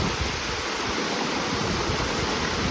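A mountain torrent rushes through the Cirque de Gavarnie, a steady, dense broadband roar of churning water that stays close and constant throughout, with no voices.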